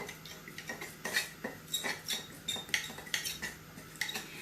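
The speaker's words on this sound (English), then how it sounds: "So now we're just going to stir this while we're waiting." A utensil scrapes and clinks against a pan while oil is stirred for toad in the hole, a steady rhythm of repeated metallic strokes close by.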